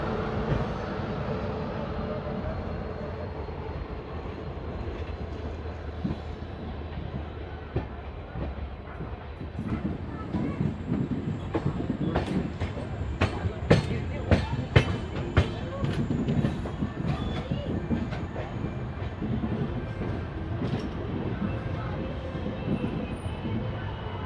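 The Durg Puri Intercity train rolls along with a continuous rumble, and a burst of rhythmic clickety-clack from the wheels rises in the middle before settling back into steady running noise.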